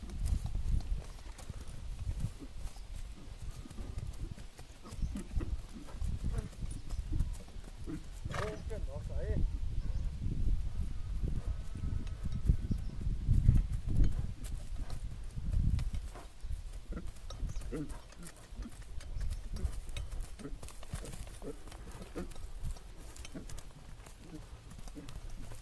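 Hooves of a horse bred for kok-boru clop steadily and close on hard ground throughout, with someone talking over the rhythmic footfalls.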